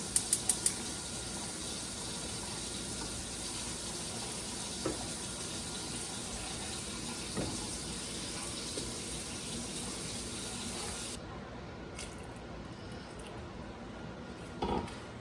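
Tap water runs steadily into a pot for several seconds, a constant rushing stream, then the flow cuts off, leaving a few faint clinks.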